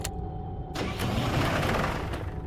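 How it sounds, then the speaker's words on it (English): A vehicle engine in the horror game Penumbra: Necrologue cranks and runs roughly, a steady low rumble that swells after a sharp start and holds unevenly, sounding as if it struggles to keep going. "The engine keeps sputtering out."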